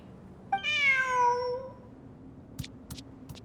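A cat meows in the video game Genshin Impact, giving one drawn-out, clear, rising-then-falling meow, followed by a few soft clicks.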